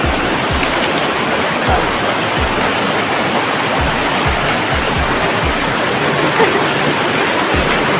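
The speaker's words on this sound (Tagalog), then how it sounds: "umaragasa talaga yung tubig. Ang lakas ng tunog." A loud, steady roar of rushing water fills the scene, a dense continuous wash of white noise from a waterfall close at hand, at 13 Falls.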